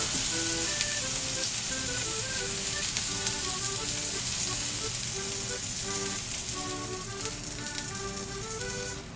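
Yakitori negima, chicken and leek skewers, sizzle loudly and steadily in a flat crepe pan, a constant crackling fry that runs without pause.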